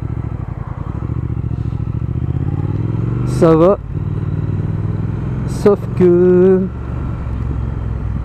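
A Triumph Speed Twin motorcycle's engine rumbles steadily at idle close by, running under French conversation throughout.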